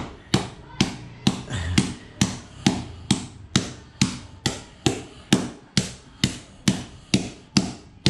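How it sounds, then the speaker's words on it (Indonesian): A hammer strikes material repeatedly to break it into small pieces while an aquarium setup is being rebuilt, about sixteen sharp, evenly spaced knocks over several seconds, close and loud with no talking. "Gue pakai palu dulu dah nanti. Ya, diketok sampai hancur."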